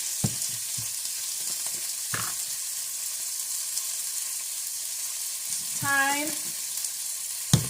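Cheesesteak zucchini boat filling with rosemary and thyme frying in a pan, a soft continuous sizzle with a few clinks and stirring knocks, briefly under a single spoken word.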